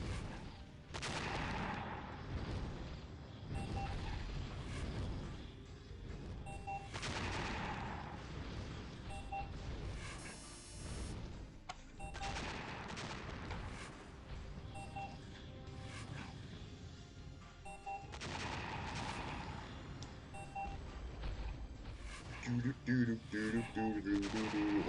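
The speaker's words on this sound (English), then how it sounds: "Oh, I'm still firing artillery rounds." Artillery rounds fire repeatedly in the Shattered Galaxy strategy game, as dense, loud bursts of booming battle effects that overlap through the whole stretch.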